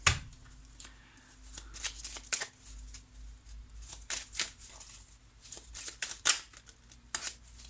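Tarot cards shuffled and drawn by hand, a run of soft riffling flicks and slaps, close and fairly quiet, with a few pauses between bursts and almost no talk.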